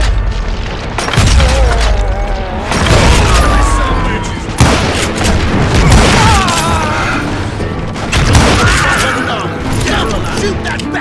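Loud gunfire and booming shots fill a Wild West shootout in the video game Call of Juarez Gunslinger, with repeated blasts and crashes over music, and a voice shouting amid the fight.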